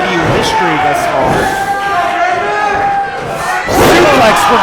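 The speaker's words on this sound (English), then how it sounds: "The crowd erupts." A wrestling crowd at a KUW show erupts after a suplex, a loud, sustained roar of cheering and shouting voices that surges again near the end.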